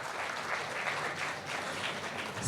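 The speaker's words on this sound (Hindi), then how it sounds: "तो एक बार जोरदार तालियां हो जाए अब खुद के लिए।" Faint, even applause from a large audience at a students' convocation ceremony, a dense continuous patter of clapping with no speech over it.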